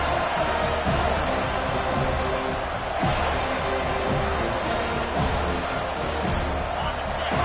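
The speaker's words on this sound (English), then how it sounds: "The roar of the crowd trying to fuel this defense to keep them pinned in their own end." A football stadium crowd roars continuously during a kick return, a dense, loud, unbroken wall of massed voices and cheering that holds steady throughout.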